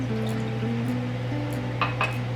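Water poured into coconut milk in a kitchen pot, a short liquid splash and trickle over a steady low hum, with a couple of faint clinks near the end.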